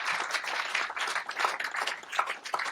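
Applause from a conference audience at a national Medicare summit, a steady dense patter of many hands clapping across the whole stretch, moderately loud and without talk.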